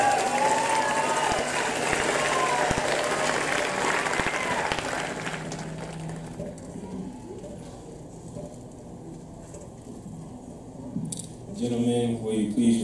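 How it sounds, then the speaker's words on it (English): An outdoor crowd at a high school graduation ceremony claps loudly at first, then the applause thins and fades into scattered clapping and murmur, with voices rising again near the end. "Please give everyone a round of applause."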